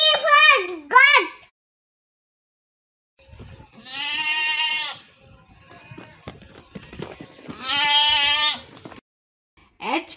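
A voice speaks briefly, then two loud, drawn-out goat bleats follow with a pause between them.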